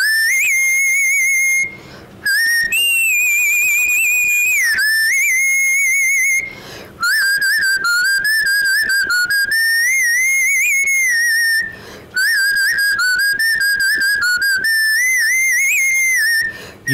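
A record-setting female whistler from Chennai whistles a tune loudly and clearly, holding long melodic phrases broken by brief pauses for breath.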